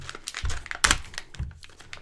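Packaging for the spare keycaps and key puller tool of a Corsair Strafe mechanical keyboard is opened close by, with crinkling plastic, rustling and a few sharp tearing sounds in a short burst.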